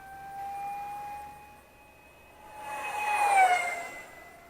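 An Arrows Viper 774mm RC jet launches at about 80% throttle, its turbine whine a steady high tone that fades, then swells into a louder rising rush as the model climbs away.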